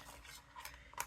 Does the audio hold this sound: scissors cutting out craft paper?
yes